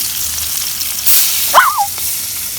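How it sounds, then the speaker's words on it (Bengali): Small fish frying in hot oil, a steady broadband sizzle running throughout with a brief surge in the middle and a short tonal squeak over it, close and moderately loud with no talking. "মা এখন একটু মাছ দিয়ে দিতেছে"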